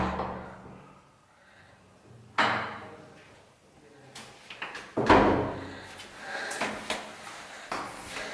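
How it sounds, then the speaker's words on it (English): Someone works at opening a door built into the rocks at a Greek monastery on Amorgos, with a series of scattered knocks, rattles and thumps, some sharp and close, over a quiet background. "trying to open the door."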